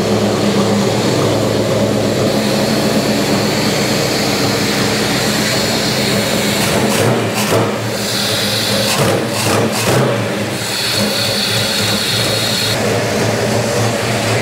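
A Factory Five 33 fitted with a new self-tuning Holley EFI runs steadily, a loud, close, continuous engine roar with rumbling low-end pulses midway and no talking over it.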